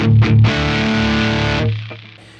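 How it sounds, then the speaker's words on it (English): Heavily distorted electric guitar chords through a Buddah DuoMaster amp model on an Axe-Fx III with shred distortion ring out loud and thick for over a second, then cut off, leaving a faint decaying hum. "So I have a shred distortion in front of it from the drive section."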